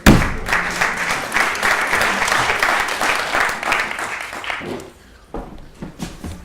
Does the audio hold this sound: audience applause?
yes